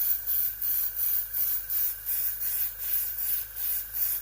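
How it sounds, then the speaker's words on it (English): An airbrush driven by a compressor sprays a pearl white base coat onto a Murray cod fishing lure, a close, soft hiss that swells and fades in about nine regular pulses, with no talking. "Turn this compressor on and we'll get started on some base coats."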